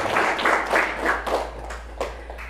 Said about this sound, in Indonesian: Kasih aplaus lagi untuk guru-guru di sini.